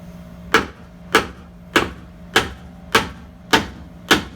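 A Currie AntiRock sway bar part for a Jeep TJ/LJ is knocked into a friction fit through a block of wood, giving seven sharp, evenly spaced thuds about half a second apart over a steady low hum.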